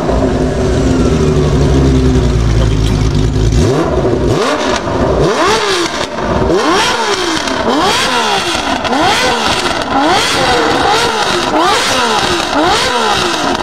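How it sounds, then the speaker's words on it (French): A Honda six-cylinder motorcycle engine revs hard and close, sweeping up and down in a rapid series of sharp, loud pulls after a brief lower idle at the start. "mais d'où Honda fait un bruit comme ça, gros? 6 cylindres!"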